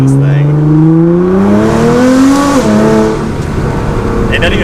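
An all-wheel-drive Nissan R35 GT-R revs steadily upward through the gears during an attempted drift, its loud, close engine drone climbing in pitch and then dropping off. Faint tire and road noise sits beneath it.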